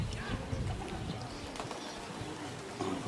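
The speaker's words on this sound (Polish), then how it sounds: "popatrzmy tu gołębie." Homing pigeons at a Polish pigeon-racing loft coo softly amid outdoor background noise, with a faint voice audible in the mix.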